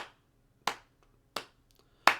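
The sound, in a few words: hands clapping quarter notes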